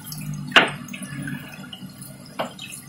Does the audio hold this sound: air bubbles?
yes